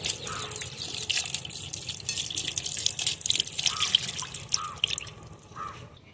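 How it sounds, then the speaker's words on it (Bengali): Tap water runs and drips steadily into a sink while eggplants are rinsed under it, a continuous close splashing with a few distinct drips standing out. "বেগুনগুলো ধুয়ে নিচ্ছি।"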